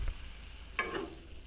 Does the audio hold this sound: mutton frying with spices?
yes